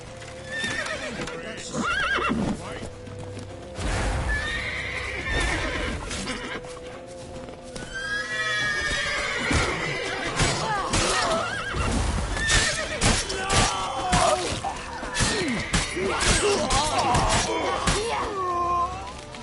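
Horses in The Witcher video game neigh and whinny loudly while hooves clip-clop at a gallop, with shouting voices and combat clatter mixed throughout.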